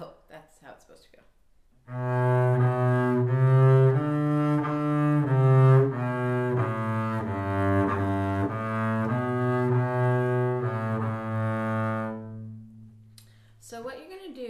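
A bass plays a rhythm line of sustained, connected notes stepping between pitches for about ten seconds, close and clear and alone, with brief handling noises before and after.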